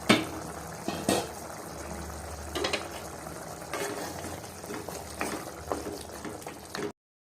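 Mutton curry simmering on low flame in an old-style pot, a steady soft bubbling with occasional louder clatters and stirring knocks, close and continuous with no talk.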